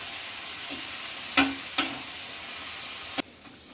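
Masala of salt, turmeric and Kashmiri red chilli powder sautéing in a pan, a continuous close sizzle with two sharp stirring scrapes and a sudden drop in level near the end.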